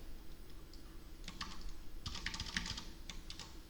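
Quiet keystrokes of someone typing program code on a computer keyboard, short bursts of soft clicks in an uneven rhythm, close but faint against a low room hum.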